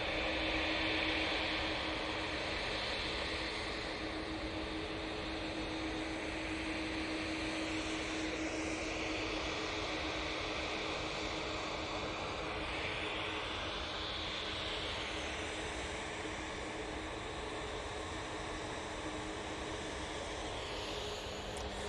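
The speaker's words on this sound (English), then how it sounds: "this Ryanair is off to Cologne Bonn Airport" A Ryanair airliner takes off at Manchester Airport, its jet engines giving a loud, continuous broadband roar that holds steady for the whole stretch with only slight swells, and no talking.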